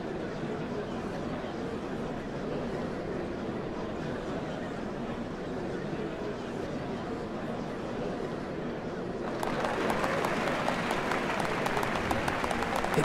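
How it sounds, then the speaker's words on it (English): A large crowd in the video game Final Fantasy XIV cheers and applauds continuously as a steady wash of noise, swelling louder with sharper clapping near the end. "What a crowd!"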